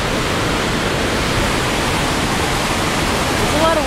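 Wenatchee River water rushing steadily past, a dense, even wash of flowing noise heard close up with no breaks, and a brief faint voice near the end.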